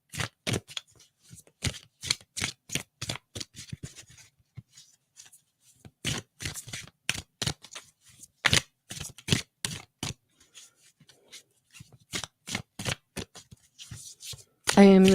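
Tarot cards from the Lunar Tarot deck are pulled and shuffled by hand, giving repeated crisp riffling and snapping bursts in irregular runs with brief pauses, close and fairly clear.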